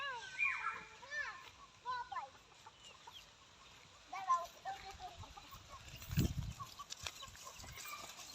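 Chickens clucking near a green field beside a village house, with several short, uneven clucks scattered across the moment while children's voices chatter nearby at moderate distance.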